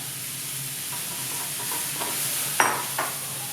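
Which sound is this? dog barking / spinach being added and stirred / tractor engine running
spinach being added and stirred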